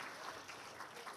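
A church congregation claps steadily in a short burst of applause, sounding fairly distant and even.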